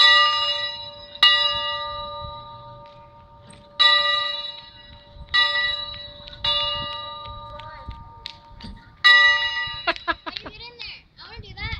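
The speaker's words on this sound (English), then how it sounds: "Can you ring that bell for me?" A bright bell rings several times at irregular intervals, each strike ringing out and fading, with someone talking softly in between.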